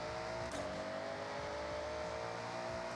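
GMC Syclone pickup in Forza Horizon 6, tuned to about 1,800 hp for drag racing, revving at launch with a steady, loud engine roar held throughout, no talking.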